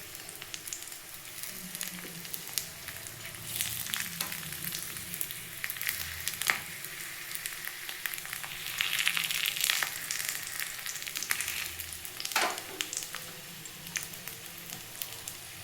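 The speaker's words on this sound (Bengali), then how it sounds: "এবারে যে টিকিয়াটা বানিয়ে রেখেছি সেটা হালকা হালকা করে, মানে স্যালো ফ্রাই হবে আর কি।" Beetroot tikki patties shallow fry in a little oil in a pan, giving a steady soft sizzle with occasional crackles and light scraping, close by and fairly quiet, with no talking.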